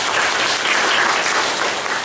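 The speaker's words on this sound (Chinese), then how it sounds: "请大家给个掌声。" An audience at a Unity game-technology talk bursts into dense, loud applause that holds steady throughout, close and with no talk over it.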